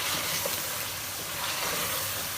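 Chicken frying in a pan with cumin powder and other spices for chicken haleem, giving a steady, dense sizzle and hiss that runs unbroken and fairly close throughout.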